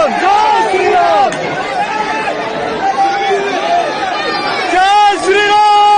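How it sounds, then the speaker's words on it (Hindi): A cricket stadium crowd chants Jai Shri Ram slogans and hoots, a loud, dense mass of many voices with rising and falling shouted phrases repeating throughout. "कुछ दर्शक टीम को देखते हुए जय श्री राम का नारा लगाते हुए चिल्लाने लगते हैं"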